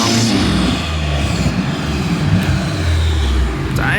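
A modified BMW M3 G80 drives and accelerates with a loud, steady engine drone and road rumble from inside the car, and a voice may be faintly present.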